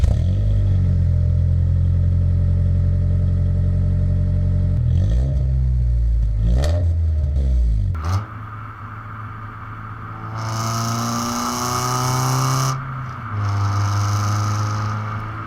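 A Honda car with a stock exhaust idles loudly with a raspy exhaust drone, then revs up sharply several times, the tone rising and falling with each blip.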